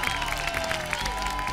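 Studio audience applauding on the Pasapalabra game show, a dense, continuous wash of clapping with some cheering over a musical backing.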